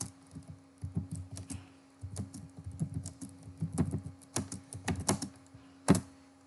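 Keys tapped on a computer keyboard while entering a WordPress meta description, irregular bursts of close, crisp clicks with short pauses and no talking.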